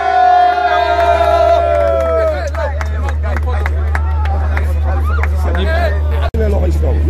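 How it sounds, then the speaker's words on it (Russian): Senegal football supporters at a 2018 World Cup match in Yekaterinburg make a steady loud crowd hubbub, with shouting, chanting voices and scattered cheers over a continuous low hum. "Снегайцы поздравляют другого болельщика с днем рождения"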